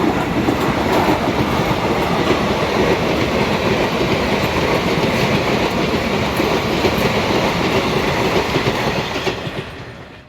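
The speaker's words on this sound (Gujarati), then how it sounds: "રતનાલમાં ટ્રેન જઈ રહી છે" A train passes at night at Ratnal, its wheels clattering in a loud, continuous rhythmic clickety-clack that runs steadily before fading out at the very end.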